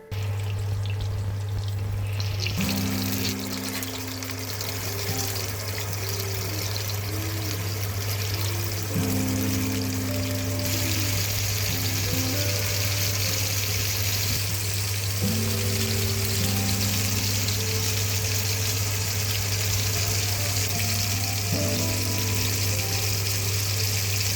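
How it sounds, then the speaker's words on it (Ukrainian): Salted, peppered duck with rosemary sprigs sizzles loudly and continuously as it fries in a pan, with a steady low hum running underneath. "качка смажиться"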